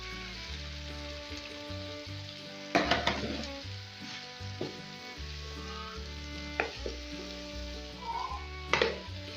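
Chicken and cabbage fry in a pan, giving off a steady close sizzle while the pieces are turned over from bottom to top, with sharp scraping clatters of the spoon against the pan at irregular moments.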